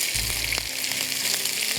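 Kofta for biryani fry in a pan with a continuous close sizzle and crackle, and a brief low thump near the start, with no talking.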